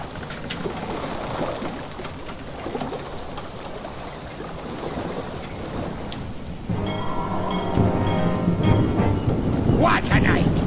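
Rain falls steadily in the Roblox Jailbreak video game, a dense hiss of pattering drops with low rumbles like thunder, growing a little louder and fuller toward the end, with no speech.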